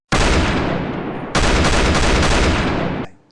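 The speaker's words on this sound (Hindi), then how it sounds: "धाएं पिस्तौल निकालकर अतीक अहमद और अशरफ पर ताबड़तोड़ गोलियां चलाई" Pistol gunshots crack out in a rapid, dense burst, loud and close, briefly breaking and then resuming before cutting off into silence.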